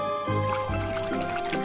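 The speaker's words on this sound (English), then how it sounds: "Fill it up a little bit of water" Water is poured to fill a drink in a VR coffee shop game, with a short gurgling, splashing trickle over a steady tonal background hum.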